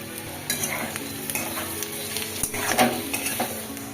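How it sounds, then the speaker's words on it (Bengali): Onion frying in a pan for an egg curry, a steady close sizzle broken by repeated scraping stirs of a spatula against the pan. "পেঁয়াজটাকেও কিছুক্ষণ ভেজে নেব, নাড়াচাড়া করে নেব কিছুক্ষণ"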